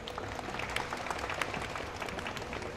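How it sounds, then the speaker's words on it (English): Applause from the audience at a professional pool match at the Hanoi Open, a dense steady round of clapping, close and fairly loud, lasting throughout. "A warm round of applause"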